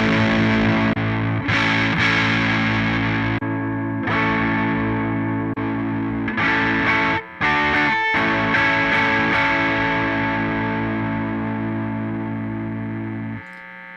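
Distorted electric guitar through a Line 6 POD Go, with sustained chords ringing out, re-struck several times, and a final chord that fades away.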